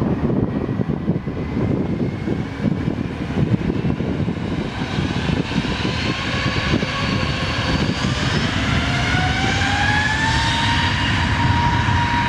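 Jet airliner taking off from runway 03 at Lisbon Airport, a loud, steady engine roar that holds throughout with a rising whine building toward the end, no voices.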